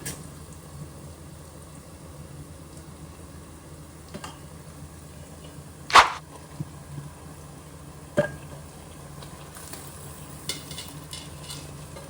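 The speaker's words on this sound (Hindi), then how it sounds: "अब मैं इसमें मटन डालूंगी।" Mutton pieces go into a pan of fried onions, bringing a sharp loud splash of sizzling followed by a steady crackling fry and occasional utensil knocks, close by with no talking.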